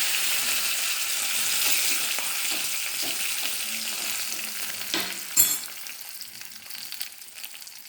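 Dried red chilies and curry leaves frying in hot oil make a dense, continuous sizzle, close and fairly loud, with a brief clatter of stirring partway through.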